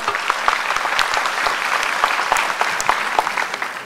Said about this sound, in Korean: 여러분 박수로 김다솜 학생을 맞이해 주시기 바랍니다